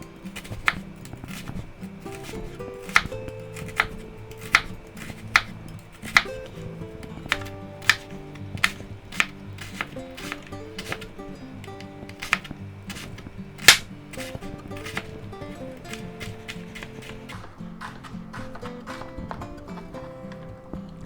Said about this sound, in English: we'll go ahead and slice this up